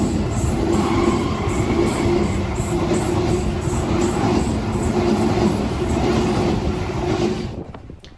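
Sydney commuter train passing Petersham station during the morning peak, a loud steady roar of wheels and rail clatter close by, dropping away abruptly at the end.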